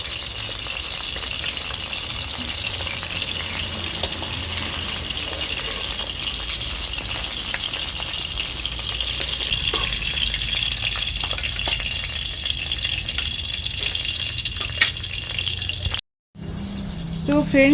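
Rohu fish pieces dropped one by one into spice paste frying in hot oil, a steady close sizzle and crackle with occasional stirring clatter, continuous and fairly loud throughout.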